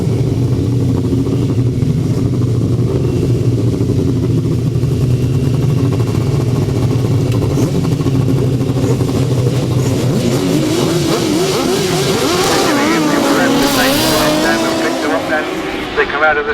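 Grasstrack racing motorcycles roar off the start together at the 2006 International Lincolnshire Poacher meeting, a loud massed engine drone that climbs into rising, overlapping revs as the pack accelerates away.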